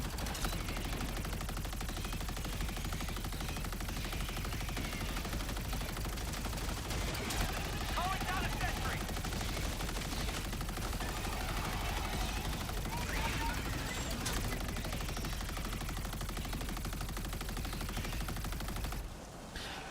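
Sustained gunfire in a video game, held down as continuous automatic shooting at unseen enemies, dense and steady throughout with a voice talking over it.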